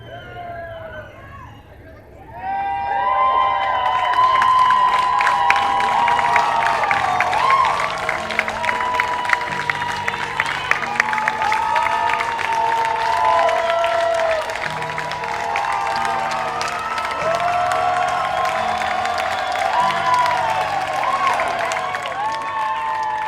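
A large crowd breaks into loud, sustained cheering and clapping as a runner reaches the finish line of a charity race, with whoops and scattered claps continuing for many seconds over outdoor chatter.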